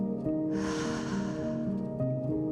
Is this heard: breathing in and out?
yes